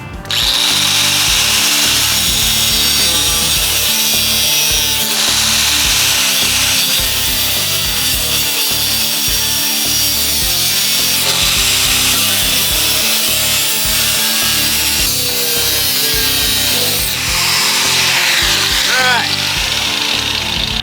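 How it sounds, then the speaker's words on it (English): An angle grinder cuts a piece out of a crusty, corroded Cummins diesel truck part, a loud continuous high-pitched whine and grinding screech that surges and dips in pitch over twenty seconds, with short pauses. "We're gonna take this grinder and cut a piece of it out just to see how bad it really is"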